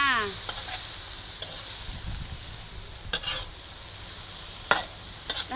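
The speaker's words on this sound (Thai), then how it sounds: "ใส่พริกหยวกลงไปผัดพริกหยวก" Continuous sizzling of bell peppers being stir-fried in a hot pan, with occasional sharp clinks and scrapes of a utensil against the pan.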